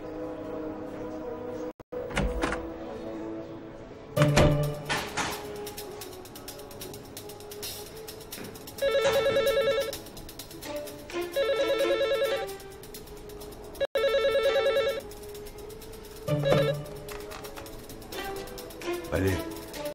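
A telephone rings in repeated electronic bursts at regular intervals, amid room noises and knocks, with people talking between the rings.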